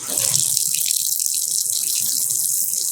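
An RV sink faucet fed by a water pump runs steadily, water hissing and splashing into the sink at strong pressure, close by and continuous throughout.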